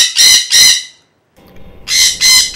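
A sun conure parrot gives loud, harsh squawks, two sharp bursts, a brief pause, then three more, close and piercing with nothing else around them.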